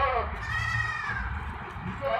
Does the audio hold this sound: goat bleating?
yes